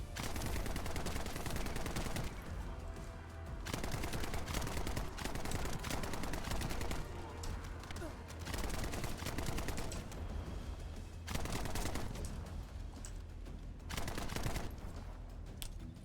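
Sustained rapid gunfire from The First Descendant combat, steady automatic bursts broken by short pauses, loud and dense over game effects, with no speech.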